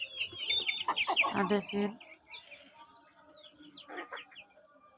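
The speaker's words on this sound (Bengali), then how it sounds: "এই মোরগগুলো আছে আমার" Hens clucking close by in a rural yard, a burst of loud cackling and clucks followed by quieter scattered clucks, with someone speaking briefly over them.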